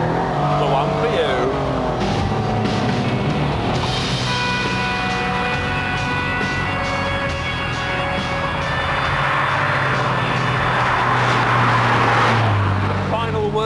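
An FBS Census, a British prototype sports car, driving on a track, its engine droning and rising through the gears, loud and close, with a voice talking over it.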